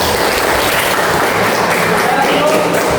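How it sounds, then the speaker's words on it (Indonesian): Children in a classroom applaud together in a continuous, loud wash of clapping that holds steady throughout, with faint voices underneath. "Oke, tepuk tangan untuk semuanya."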